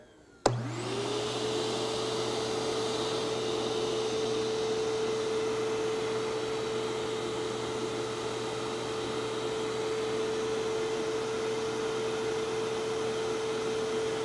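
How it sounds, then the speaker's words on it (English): A larger wet/dry shop vacuum switches on with a sudden thump and spins up into a loud, steady roar with a prominent motor whine that holds constant throughout, alone with no voices. "Now let's put on the larger vacuum."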